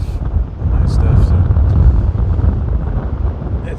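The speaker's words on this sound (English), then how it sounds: "So it's very windy, so it's probably hard to hear." Wind buffeting a microphone on a hike, a loud steady low rumble that swells and sustains throughout with gusty fluctuations, no speech.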